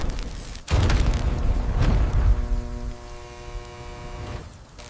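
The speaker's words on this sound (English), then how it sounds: "The explosions send U-405 into a tumble." A sudden deep depth charge explosion booms, followed by a rumbling second blast and a lingering low mechanical hum as the roar subsides.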